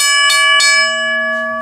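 WABCO BA-10 mechanical bell struck by its gong hammer, two quick loud metallic strikes leaving a bright, sustained ringing tone that slowly decays, close and alone.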